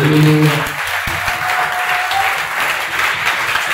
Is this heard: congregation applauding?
yes